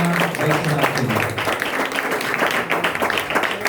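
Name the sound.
applause at a church gathering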